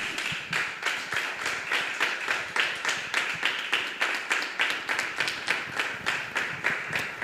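A congregation at a men's church congress claps in unison, a loud rhythmic beat of sharp, evenly spaced claps repeating steadily, roughly three per second, throughout.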